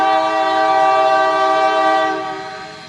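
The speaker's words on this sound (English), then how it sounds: "We've got another train that's coming into the yard here." A train comes into a rail yard, sounding a loud, sustained, multi-tone horn close by. The horn holds steady for most of the stretch, then fades near the end over a low rolling rumble.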